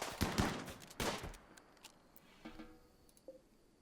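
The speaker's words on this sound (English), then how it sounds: "And Caro, do you want to get out of the way of the gunshots?" Gunfire in the video game RimWorld during an insect hive infestation: two sharp bursts of rapid shots up front, then scattered lighter cracks and small clicks trailing off, with no talk.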